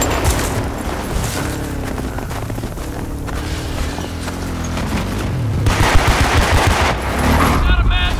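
Video game gunfire, dense automatic bursts and rattling shots over a continuous rumbling battle background, close and loud throughout, with faint talk mixed in.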